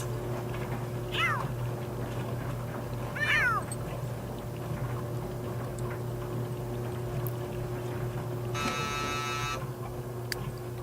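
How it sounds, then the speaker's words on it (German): A cat meows twice in The Sims 3, two short clear calls a couple of seconds apart over a steady hum of game background sound, followed later by a brief buzzing tone. "Schau hier die Katze."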